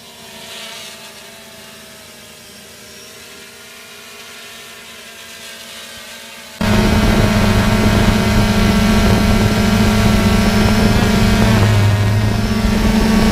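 Storm Drone 6 with a 10400 mAh battery flying, its propellers whining faintly at first, then jumping to a loud, steady, close buzzing drone partway through.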